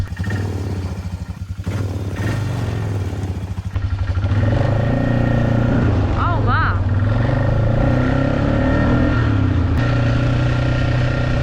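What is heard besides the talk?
old four-wheeler ATV engine running after 12 years parked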